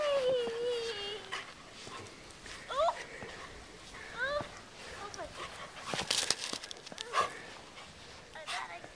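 A dog in a snowstorm barks and whimpers in short yelps and whines, fairly close, while people talk over it.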